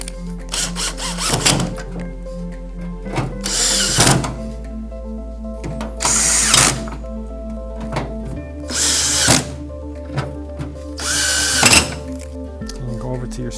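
A power drill drives screws into the underside of an EdenPURE 1000 XL heater in several short, loud bursts separated by pauses, with clunks and handling noises between them.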